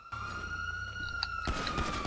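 Police car sirens wailing in GTA 5 Online, a steady high electronic tone with harmonic overtones that shifts into a busier, louder burst of sirens and noise near the end.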